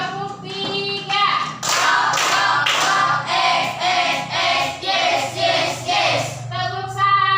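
Schoolchildren in a classroom clapping hands together in a rhythmic clapping game, sharp bursts of group claps in a steady pattern between short sung or chanted children's voices.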